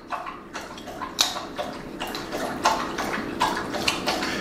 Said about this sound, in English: my dog has decided to start drinking water, so maybe you can hear that